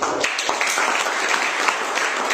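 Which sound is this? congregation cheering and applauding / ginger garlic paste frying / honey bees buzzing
congregation cheering and applauding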